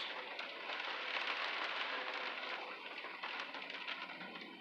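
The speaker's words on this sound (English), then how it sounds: "nearly sideways rain coming down now." Heavy, wind-driven rain pours down nearly sideways in a steady, dense hiss that stays loud and close throughout, with no voices.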